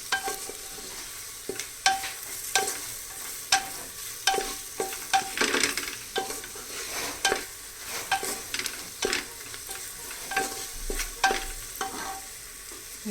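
Turmeric and spice chutney roasting in a pan for a Maharashtrian masale bhat, with a soft sizzle under repeated scraping stirs that come in irregular bursts, close and fairly quiet.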